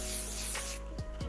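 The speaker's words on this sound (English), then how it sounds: "spray a little bit on these curls" Hairspray hisses onto curls in one close, steady spray burst that stops partway through, followed by a couple of faint rustling sounds.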